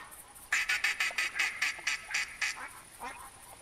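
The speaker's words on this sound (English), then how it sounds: "Stubborn ducks, I tell you what." A flock of black ducks quacks in the hunting game theHunter Classic, a rapid run of about a dozen nasal quacks in a steady rhythm, fairly close, then tapering off into a couple of softer calls.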